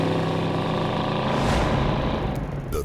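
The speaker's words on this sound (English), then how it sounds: "The 300 horsepower Mustang GT Convertible" A 300-horsepower Ford Mustang GT Convertible engine surges under acceleration, a loud, close rumble swelling over about three seconds.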